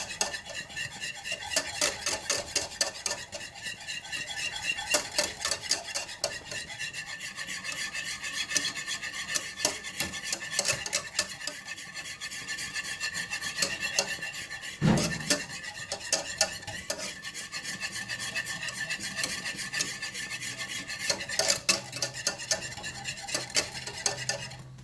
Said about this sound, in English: Keep stirring on it. Keep cooking.